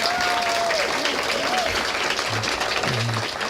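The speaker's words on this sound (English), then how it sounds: "let's give him a round of applause" A crowd at a recreation center groundbreaking ceremony applauds steadily for several seconds, a dense even wash of clapping with faint voices mixed in.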